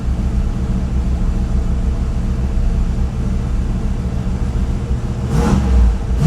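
A car engine runs steadily in neutral after a used replacement driveshaft goes in. A low, continuous rumble with slight unevenness holds throughout, with a brief louder swell near the end.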